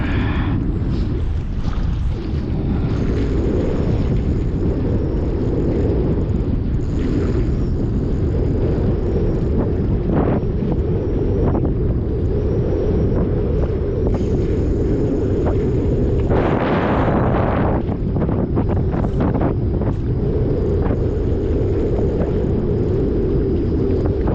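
Strong wind buffets a kayak on open water in stormy weather while a small trolling motor drives it, a constant loud roar and rumble throughout with occasional gusty bursts and splashes.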